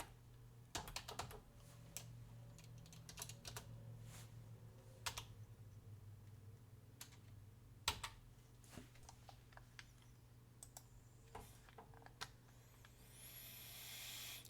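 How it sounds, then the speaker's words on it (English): Quiet typing on a computer keyboard, with irregular clusters of light clicks and taps close by over a low hum and no speech. "I'm just going to type RES in here, remind me of resistance"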